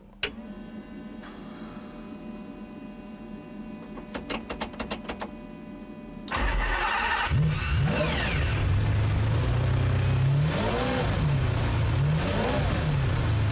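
A clicking race-spec master switch and whirring fuel pumps, then a race car engine fires up loud and close, revving repeatedly in rising and falling bursts.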